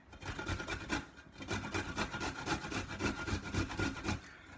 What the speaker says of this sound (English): Next, I'm just going to use my grater to grate my ginger and garlic.